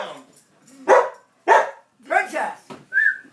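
A dog barks in short bursts close by, several separate yaps with a whining, whistle-like note near the end, among a lively indoor family setting where people talk.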